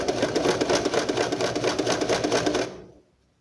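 Sewing machine stitching a handkerchief hem, a steady fast rhythmic needle chatter running close and loud for under three seconds before stopping abruptly, with no voices.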